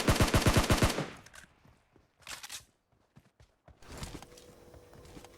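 Gunfire in a video game shooter: a rapid, loud burst of automatic shots, then scattered single shots and footsteps, with another cluster of shots near the end.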